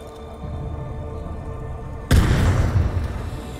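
A low background hum, then a sudden muffled boom of a grenade going off underwater in Far Cry 5, followed by a rumbling, bubbling wash that slowly fades.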